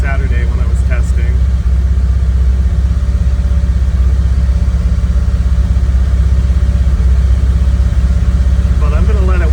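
An engine idles steadily during a cold-start warm-up, a loud, even, continuous rumble with a faint higher sound briefly at the start and end.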